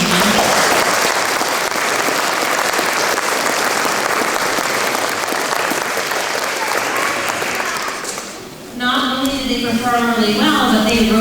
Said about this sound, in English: give chorus a special round of applause for their drumming